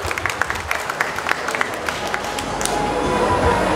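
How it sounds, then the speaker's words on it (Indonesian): Audience applause for a comedian at a stand-up comedy competition grand final, scattered claps at first swelling into fuller applause and cheering. "Tepuk tangan sekali lagi buat Satria."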